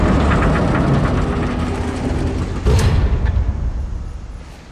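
Train rolling along tracks in Spider-Man: Miles Morales, a heavy rumbling clatter that is loud at first, then gradually fades with a brief metallic screech partway through.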